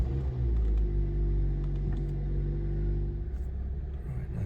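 A Hyundai/Kia car engine idling close by, a steady low rumble with a humming drone that stays even throughout, with a few faint clicks over it.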